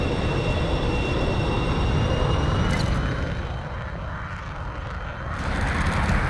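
Fighter jet engines in the air-combat game Metalstorm, where a MiG-19, A-4 and F-14 are flying: a continuous loud roar with a whining tone that dips slightly midway and swells again.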